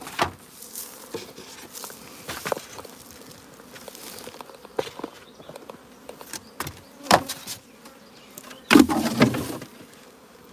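Honeybees buzz around an open beehive during a nuc transfer, a steady swarming drone with scattered louder passes of bees flying close by, plus faint handling knocks.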